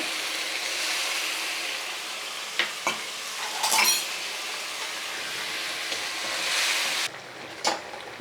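Chicken gizzards cook in a pan with a little water, giving a continuous bright sizzle. Intermittent scraping and clinking of a utensil stirring against the pan are heard close up, with no speech.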